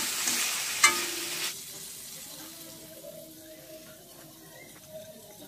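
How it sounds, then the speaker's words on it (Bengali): Prawns marinated with salt and turmeric hit a hot pan with a sharp, loud hiss that lasts about a second and a half, then settle into a softer, fading crackle of frying nearby. "একটু সামান্য নুন এবং সামান্য হলুদ দিয়ে মাখিয়ে এটাকে আমরা ফ্রাই করে নেব"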